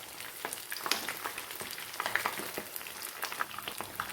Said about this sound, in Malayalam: നല്ല ഡീപ്പ് ഫ്രൈയിൽ നമുക്കൊന്ന് വറുത്തെടുക്കാം